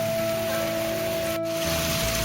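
Steady rain falls in a village, a continuous broadband hiss with a sharp brief dropout midway; a faint steady hum runs underneath throughout.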